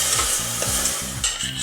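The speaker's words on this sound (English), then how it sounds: "we're just going to keep on stirring this, and the sugar's going to dissolve" Sugar and water being stirred in a pan while it turns to golden syrup, a steady scraping stir with soft sizzling heard up close throughout, no voices.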